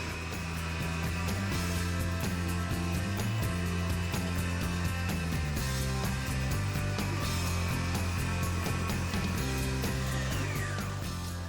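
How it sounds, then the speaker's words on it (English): A stand mixer with a dough hook kneads sundried tomato and basil sourdough on speed setting 2, its motor giving a steady, close whirring hum with rhythmic pulsing as the hook turns, heard alone without voices. "it's always the dough hook we want. And that's just on 2 setting, and we'll let that go for about 3 to 4 minutes"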